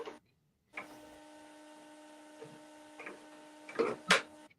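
An embroidery machine stitches out a design for a St. Patrick's Day bling shirt, a faint mechanical hum broken by a few soft clicks and louder taps near the end.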